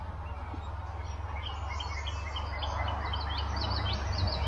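Birds chirp and sing repeatedly after rain over a steady low hum, several calls overlapping at moderate distance with no talking.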